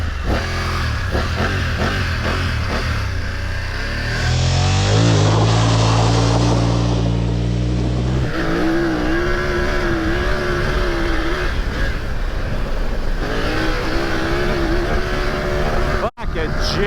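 A BMW F900 GS Enduro motorcycle accelerates hard from a standing motocross start, its engine roaring close and rising through revs before a brief gear-change dip, with a voice audible over it.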